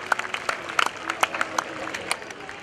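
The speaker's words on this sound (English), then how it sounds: "a big round of applause for Dan Buchanan and the hang" Airshow crowd applause after a hang glider performance at NAS Oceana, heard as scattered, fairly distant claps spread across an open field, with a voice speaking over them.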